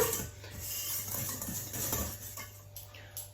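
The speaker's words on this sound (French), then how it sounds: "Je prends le fouet et je tamise donc toutes les poudres ensemble." A whisk stirs dry powders, caster sugar and baking powder, together in a bowl while mixing scone batter, a soft, continuous scraping and light ticking of wire against the bowl, close and fairly quiet with a steady hum beneath.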